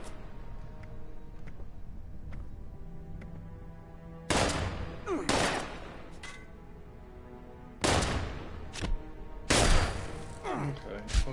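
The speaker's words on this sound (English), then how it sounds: "Had it, and they're shooting it now." Gunfire in Fallout 76: a few loud, sharp volleys burst out over a low game background, separated by quieter stretches.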